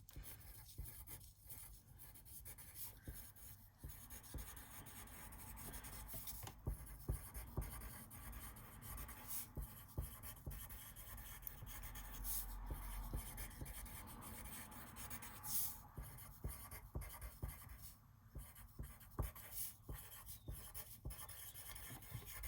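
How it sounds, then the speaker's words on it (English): A pencil scratches across paper as the word "squash" is written over and over during a Year 2 spelling exercise, giving a faint, continuous rubbing with short strokes and pauses, close and quiet, with no talking. "I'm going to see how many times I can write the word squash."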